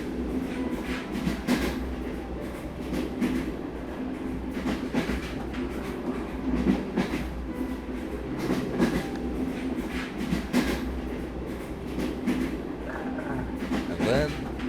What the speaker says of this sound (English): our good spears swayed back and forth with the movement of the train